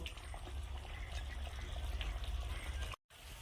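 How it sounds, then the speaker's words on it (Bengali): Fish curry simmers in a pan with a quiet, continuous bubbling and liquid burble heard close up, steady throughout until a sudden brief cut near the end. "এখন আমি প্রায় 3 মিনিটের মতো খুব ভালো করে ফুটিয়ে নেব।"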